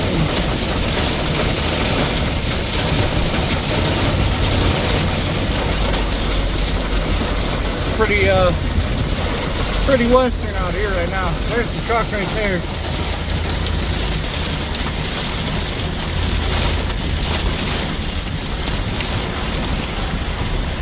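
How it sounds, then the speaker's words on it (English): Steady, dense hiss of heavy rain and hail pelting a truck, with a few brief voice fragments and some knocking in the middle. "it's like hailing and heavy rain"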